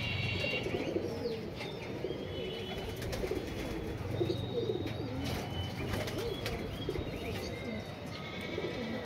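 A female pigeon in a pigeon loft coos in soft repeated calls over a dense, noisy background with faint chirps from other birds.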